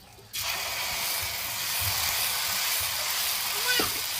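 Dosa batter hits a hot pan on a wood-fired stove, a sudden loud hiss that bursts in after a brief quiet and holds as a steady, close sizzle, with a brief voice near the end.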